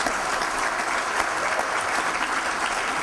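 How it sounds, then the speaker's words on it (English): Sustained applause from a conference audience at a keynote event, dense and steady clapping filling the hall throughout at moderate loudness. "Second round of applause."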